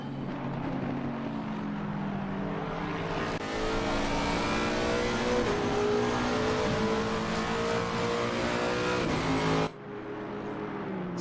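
Race cars circling the Brands Hatch circuit during qualifying, with a Lexus overtaking: engines drone and rise in pitch as cars sweep past, swelling louder through the middle before cutting back to a distant hum.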